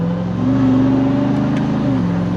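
Ram TRX pickup engine revving under acceleration, a loud close-up roar that climbs in pitch, with a brief dip near the end as a gear changes, heard from inside the cab with no talking.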